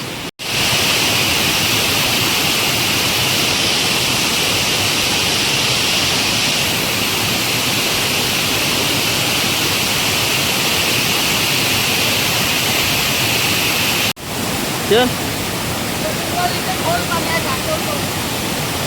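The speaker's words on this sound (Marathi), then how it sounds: "खूप पाण्याचा आवाज येतोय धबधब्याचा" A steady, loud roar of rushing water from a forest waterfall, broad and continuous, with a brief break near the end before it resumes.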